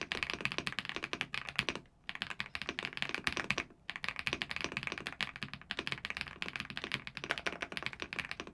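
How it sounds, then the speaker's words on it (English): Fast typing on an Epomaker TH99 Pro mechanical keyboard gives close, dense clacky keystrokes in a steady rapid stream, with two brief pauses, and no voices. "It's this satisfying blend of socky, poppy, and creamy all at once."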